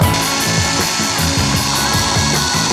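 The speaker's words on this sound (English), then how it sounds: "We've got the drill, obviously the drill running away." A power drill whirs loudly and continuously nearby, its motor humming with a steady, slightly pulsing grind and no voices.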